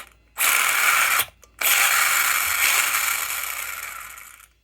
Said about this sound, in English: So you can hear that metal drive line, which obviously has a distinct sound